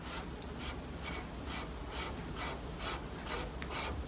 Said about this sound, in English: So this is the last dry scrape.